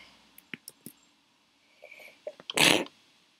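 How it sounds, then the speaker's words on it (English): A few soft clicks and snuffles build up to one sharp, close sneeze burst near the end. "Need to sneeze."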